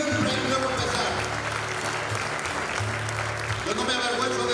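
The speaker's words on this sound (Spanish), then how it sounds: "Dale un fuerte aplauso a la iglesia del Señor." A church congregation applauds during a Spanish-language sermon on generational curses, with steady broadband clapping filling most of the stretch at moderate loudness, partly blended with the room and a low hum beneath.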